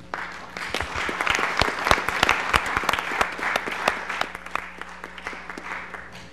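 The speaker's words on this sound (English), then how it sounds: "it's appropriate for this commission to give him a rousing round of applause for a job well done through the years" A rousing round of applause fills a county commission meeting, with many hands clapping fairly close for about six seconds, steady and sustained with sharp individual claps standing out.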